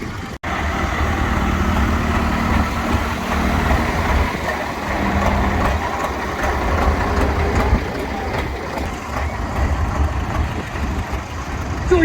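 A pulling tractor at a tractor pulling event in Brechin, Scotland, engine rumbling steadily at a low idle while it is towed back, a loud continuous drone with mechanical clatter and faint voices in the background.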